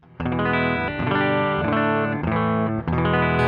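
Sustained electric guitar chords from a Koch BVCR 335-style guitar on the neck pickup, played through a Koch 63 OD and Boss MS3 with delay and reverb, ring out with a smooth tone and lingering echoes, several changes, no voices.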